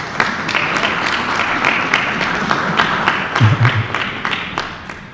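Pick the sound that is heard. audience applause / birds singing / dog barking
audience applause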